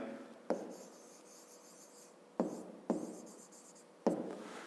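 Handwriting an equation with pen on paper: a steady scratching texture with four sharp strokes or taps, close and fairly quiet, with no talking.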